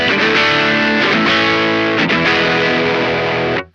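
Overdriven electric guitar on the neck pickup through a Xotic BB preamp, in the crunch setting of an AMT SS-11, rings out in sustained distorted chords at close, loud level before cutting off abruptly near the end.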